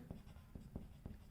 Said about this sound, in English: So I'll write it over here